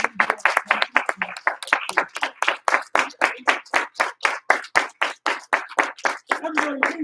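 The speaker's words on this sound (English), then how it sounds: "So give him a big round of applause." A martial arts class honors a student earning his black belt with brisk, rhythmic clapping in close unison. The claps land at a fast, even pace throughout and sound near and loud.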